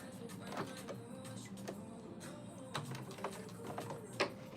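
A home sewing machine stitches across pins in a fabric project, its motor whirring steadily with faint clicks and ticks as the needle passes over the pins, close and moderately quiet.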